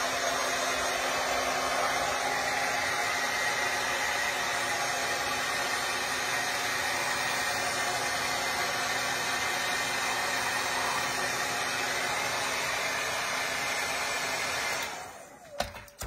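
A hair dryer blows steadily on a freshly painted second coat of orange paint on a jack-o'-lantern ornament, a loud constant close whoosh that cuts off with a click near the end.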